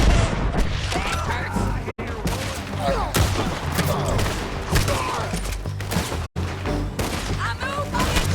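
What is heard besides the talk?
gunfire in the video game Red Dead Redemption 2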